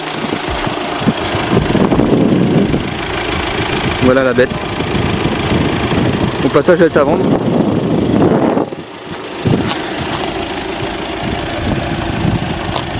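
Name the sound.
Audi A3 Sportback 2.0 TDI engine idling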